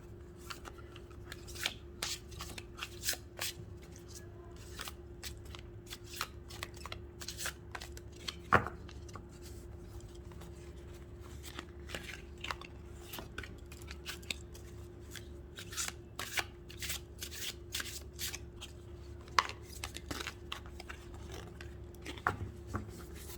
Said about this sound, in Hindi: इन कार्ड्स को वैसे मैं पहले शफ़ल कर लेती हूँ